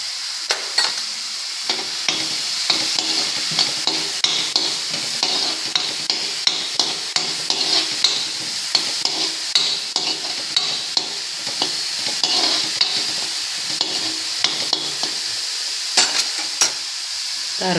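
Ginger garlic paste fries and sizzles in a hot pan for a chaat recipe, with steady close hiss and repeated sharp clicks and scrapes of a spoon stirring against the metal throughout.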